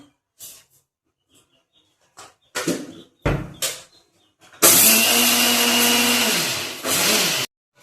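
A mixer grinder runs loud and steady for about three seconds, grinding curry leaves and drumstick leaves with rock salt into a coarse powder. Its whir dips once and then resumes, after a few short knocks and handling noises.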